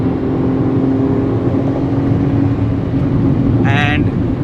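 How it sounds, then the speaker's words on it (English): Steady, loud engine drone inside the cabin of a 2022 Tata Tiago iCNG revved high toward 6000 RPM, a dense rumbling roar holding constant throughout, with a brief high chirp near the end. "this is the amount of engine noise that you will hear inside the cabin"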